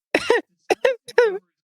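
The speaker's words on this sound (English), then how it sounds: "he feels himself cough." One person coughs in a quick series of short, harsh bursts, about three or four close together, with brief gaps between them.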